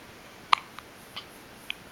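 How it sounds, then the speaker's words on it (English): A newborn baby hiccupping soon after a feed, with one sharp little hiccup followed by fainter ones spaced irregularly in a quiet room. "I'm not surprised that he has the hiccups"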